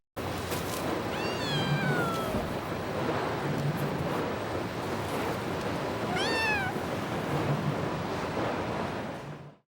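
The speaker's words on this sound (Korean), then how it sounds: "회사 공장에서 몰래 아기 고양이를 키우고 있던 지영은 집으로 고양이를 데리고 옵니다" Two high, wavering meows from a baby kitten rise above a constant roar of surf and wind, spaced several seconds apart.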